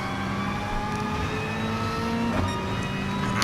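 Race car in Gran Turismo Sport on an online track, engine holding a steady loud drone that climbs slightly in pitch as it accelerates, with a short clatter near the end and no talking.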